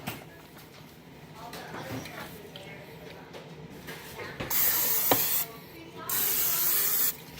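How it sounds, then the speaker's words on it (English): Cooking spray hissing onto a waffle iron in two sustained bursts, loud and close, following a stretch of quieter kitchen sounds, with someone talking at times. "I hit this with a little bit of spray pan, both sections here, just to get it lightly done"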